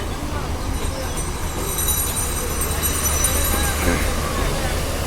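The Dolonchapa train, running to Panchagarh, stands at Badarganj railway station in Bangladesh with a steady low engine rumble and a faint high whine, while a person talks over it.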